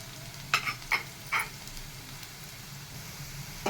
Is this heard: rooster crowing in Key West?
no